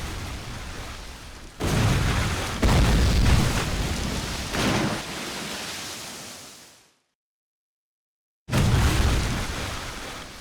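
Cannon fire and explosions in a Civil War video game, loud heavy booming bursts in quick succession with a roaring rumble, broken by a short total silence before another blast.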